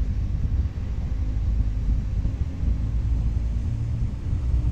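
Airliner taking off in the flight game Eurofly, a steady deep engine rumble that stays loud and constant, with no voices over it.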